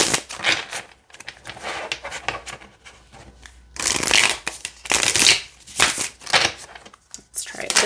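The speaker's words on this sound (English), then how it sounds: "let's see how it shuffles" A Blooming Cat tarot deck being shuffled by hand, giving close, crisp riffling bursts in several separate passes with short pauses between them and a person talking in between.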